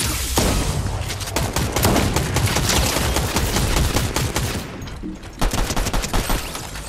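Dense automatic gunfire and rapid shots in the video game Fortnite, a continuous loud fusillade that briefly thins out near the end before sharp bursts return.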